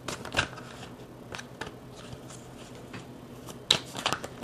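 A deck of tarot cards shuffled by hand nearby, soft papery riffles and slides with a few sharper snaps, irregular and close, no voices over it.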